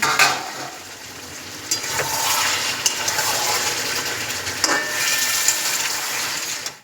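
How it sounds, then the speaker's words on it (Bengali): Chicken curry meat is stirred in a pan after the lid comes off, producing a continuous close sizzle with occasional scraping knocks of the spoon against the pan and no speech. "ঢাকাটা খুলে এবার আমি ভালো মতো নাড়াচাড়া করে নেব"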